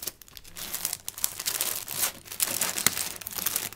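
Packs of stickers in plastic wrappers shuffled and crinkled inside a craft-room drawer, a close, busy run of rustles and crackles with a few sharper snaps.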